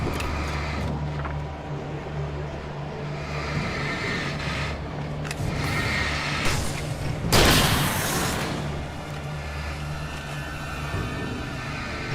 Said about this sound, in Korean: 저 폭탄 왜 이렇게 약해